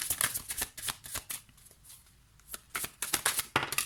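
Tarot cards being shuffled by hand, with quick crisp riffling bursts in two bouts separated by a brief quieter pause, close and clear with no talking.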